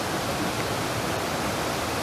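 Muddy storm runoff rushing through an eroded creek after heavy rain, a steady, loud, broadband wash of water that fills the whole clip with no breaks.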